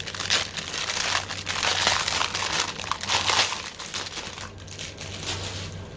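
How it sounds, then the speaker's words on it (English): Crinkly paper wrapping around tiny taped-together spoons being handled up close, a steady loud crackling and rustling that rises and falls over several seconds, with no voices. "And crinkly paper."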